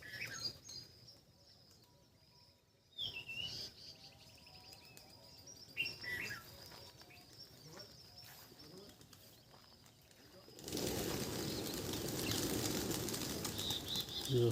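Pigeons flutter and clap their wings in bursts among soft chirps and coos, then a loud rush of many wings beating together, with occasional nearby voices.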